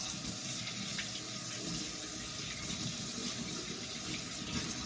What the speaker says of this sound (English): Get my hands rinsed off, dry it